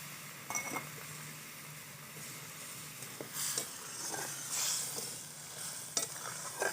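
Fish going into a simmering sour radish curry in a pot, soft bubbling and sizzling with stirring scrapes and a few light clinks, close and quiet.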